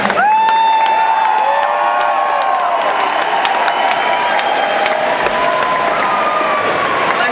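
A large crowd cheers, whoops and applauds at an arena show at Tsongas Arena in Lowell, Massachusetts, loud and sustained throughout, with sharp clapping, scattered shouts and a few high whistles rising above the roar.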